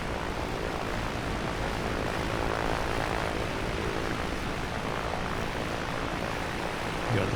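Steady, continuous propeller airplane engine drone from Flight Simulator 2024, parked at Bucharest airport, holding a constant loud level throughout with no speech over it.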